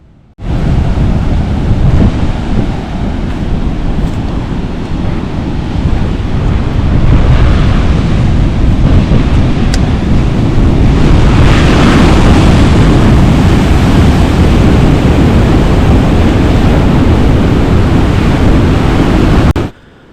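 Heavy sea surf pounds the shore at Kannanthura on the Kerala coast, a loud, continuous roar of breaking waves and rushing water with strong wind buffeting throughout and no talk.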